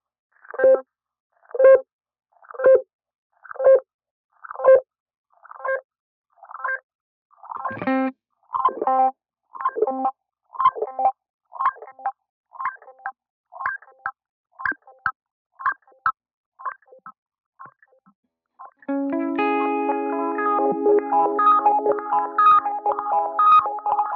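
Guitar run through a bubble echo effect with the dry signal blended back in, slow speed and deep modulation: a series of plucked single notes with warbling repeats, then a sustained strummed chord ringing out, played alone.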